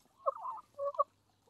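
Araucana hens make two short, warbling, throaty clucking calls close by, each under half a second, followed by quiet.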